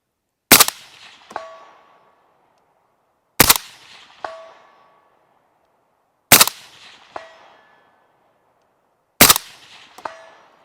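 Four single shots from an AK-74 rifle at an outdoor range, evenly spaced about three seconds apart, each a sharp crack followed a moment later by a faint metallic ring from a distant target.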